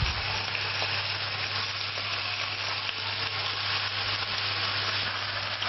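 Bacon fries in a pan with a loud, steady, continuous sizzle and crackle that keeps going without pause and with no one talking over it.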